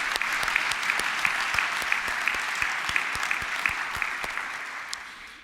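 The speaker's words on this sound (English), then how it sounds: "Could you also give a round of applause to Professor Max?" A crowd at a university opening ceremony applauds a professor with steady, dense clapping that holds for about five seconds before starting to fade.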